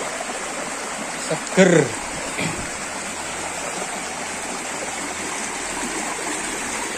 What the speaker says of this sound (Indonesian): Ini airnya kemericik